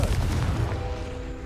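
A Confringo spell explodes in Hogwarts Legacy, a heavy, close, rumbling boom that starts at full force and slowly decays.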